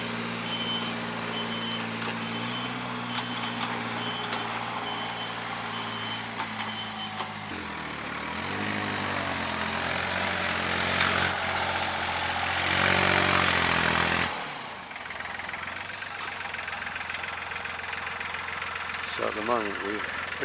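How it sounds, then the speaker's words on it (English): Dumper truck on a road construction site, its diesel engine droning while a regular reversing beep repeats, the engine rising and falling as it moves. "and now he's driving a dumper"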